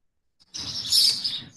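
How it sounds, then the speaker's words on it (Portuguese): A small bird outdoors gives one short, bright burst of chirping that lasts about a second, close and clear with nothing else around it. "Os passarinhos estão com a molesta hoje, viu? Vocês estão vendo aí eles cantando?"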